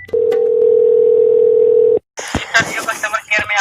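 A phone call to Jio customer care begins with a loud steady dial tone lasting about two seconds, then a short silence and connection noise with clicks as a voice starts talking.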